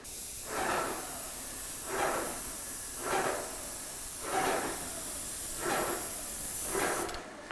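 Spray gun laying a very light coat of paint in six evenly spaced hissing bursts, each about a second long, separated by short quiet gaps.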